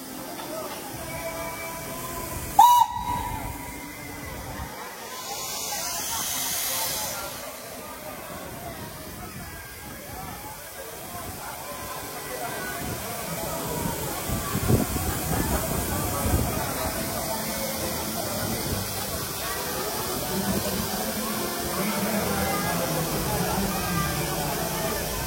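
Broad, steady hiss of steam from steam locomotive B2503 at the Ambarawa Railway Museum, swelling at times, with a sharp burst early on and people talking faintly in the background.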